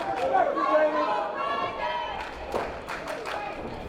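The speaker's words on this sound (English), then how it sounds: "The crowd hyped for this fight." Crowd at a fight event, a dense wash of chatter and cheering with overlapping voices throughout and a few sharper claps or thuds toward the end.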